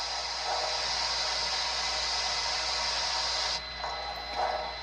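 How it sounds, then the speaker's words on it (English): A Bachmann HO model steam locomotive with a DCC sound decoder gives off a continuous broad hiss of steam release, steady and moderately quiet, cutting off abruptly near the end before faint lower hissing. "4 is steam release."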